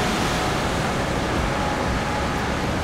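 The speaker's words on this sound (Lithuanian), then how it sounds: "čia bangos tai šiandien duoda" Big sea waves surging onto Palanga beach make a constant, loud roaring wash with no break and no voices.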